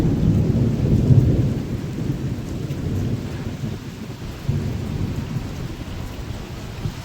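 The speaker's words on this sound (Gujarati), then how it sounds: "અત્યારે જો જબરજસ્ત વરસાદ પડો" Heavy rain pours down steadily during a Navratri evening, with deep rolling thunder rumbling underneath throughout; the downpour swells slightly in the first second and again midway.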